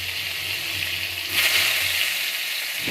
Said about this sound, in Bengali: চলো এটাকে লাল লাল করে ভাজা ভাজা করে নিয়ে আসি